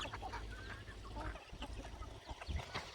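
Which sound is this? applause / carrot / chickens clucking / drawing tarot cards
chickens clucking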